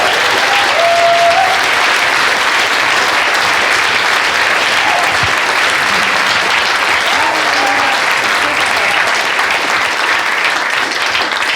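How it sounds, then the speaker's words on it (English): A room full of people applauding a guest speaker at a talk on race and skateboarding: dense, loud, continuous clapping that holds steady throughout, with no talk over it. "can I please get a round of applause for Mr."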